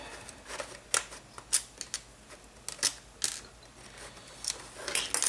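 Screws being turned out of a plastic VHS tape cassette shell, a series of small dry clicks and ratcheting scrapes spaced irregularly, close and quiet with no talking.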